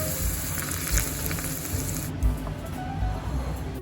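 Hot oil poured over dried chili, paprika, minced garlic and sesame for a Chinese salad dressing, giving a continuous loud, close hissing sizzle that eases off slightly partway through.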